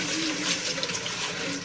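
Water running and splashing as an ingredient is rinsed before making a Gambian wonjo or baobab drink, a brief steady gushing close by with no talking.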